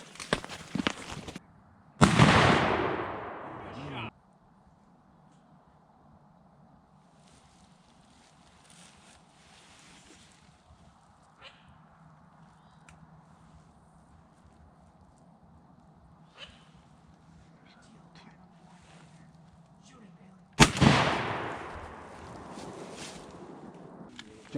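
Two loud shotgun blasts during a teal duck hunt, one early and one near the end, separated by a long quiet stretch of faint outdoor background.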